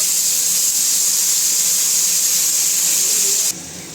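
Tomatoes hit hot oil with cumin and mustard seeds in a pan for tomato green chilli curry, giving a loud, steady hissing sizzle that drops off abruptly near the end.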